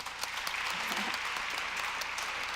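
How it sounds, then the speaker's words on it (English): A community gathering audience applauds steadily for a speaker named Morgan: dense, continuous clapping throughout, loud and close, with no talk over it. "Let's give Morgan a round of applause"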